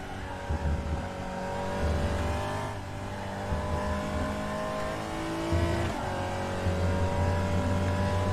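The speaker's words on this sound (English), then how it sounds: "getting there now with the Porsche" A Porsche race car in the RaceRoom racing game revs and accelerates steadily, its engine note rising and falling through gear changes with a continuous loud drone and no voices.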